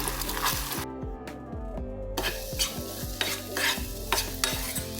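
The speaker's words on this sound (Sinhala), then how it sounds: "දැන් අපේ තෙල් එක හොඳට පැහෙනකොට අපි අපේ බිත්තර දෙක එකතු කරලා මේක හොඳට බෙදගමු." Two eggs fry in hot, spiced oil for fried rice while being broken up, with a close, lively sizzle and rapid spatula scrapes and knocks against the pan, no voices.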